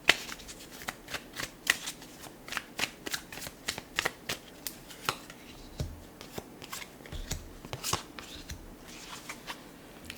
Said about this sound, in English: I will now draw a few tarot cards to see what else is incoming for you